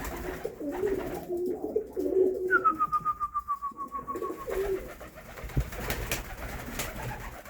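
Pigeons coo softly in a low, rhythmic murmur, with a brief high whistle-like tone sliding down in the middle.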